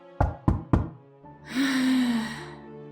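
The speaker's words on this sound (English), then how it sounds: "a knock on her door could be heard" Three sharp, close knocks rap on a door in quick, even succession. A longer drawn-out creaking tone follows them.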